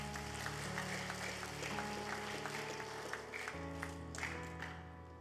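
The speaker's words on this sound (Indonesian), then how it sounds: "Tepuk tangan yang paling meriah buat Tuhan kita" A church congregation gives a round of applause, a soft spread of clapping under sustained music tones, distant and low in level throughout.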